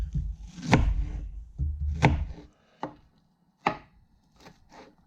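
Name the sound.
chopping meat to mince it finely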